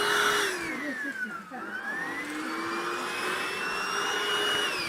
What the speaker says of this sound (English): this vacuum cleaner Hoover that we bought from Lidl